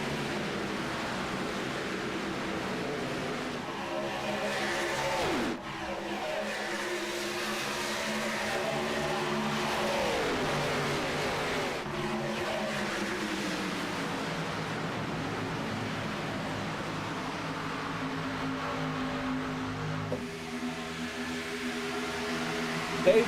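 Race cars accelerate into turn one, their engines droning steadily with rising and falling pitch, heard from a distance as one sustained roar with no voices over it.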